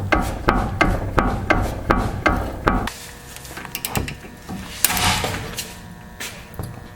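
Work on the lower ball joint nut of a raised Mazda MPV minivan brings about eight evenly spaced metallic hammer blows, then a few irregular clanks and knocks, all close and fairly loud.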